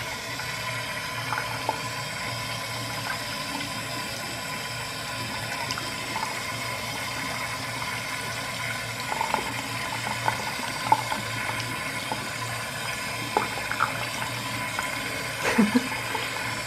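Water pours steadily over a pair of cheap motorcycle gloves during a waterproofing test, a continuous running, splashing wash with a few sharper splatters near the end.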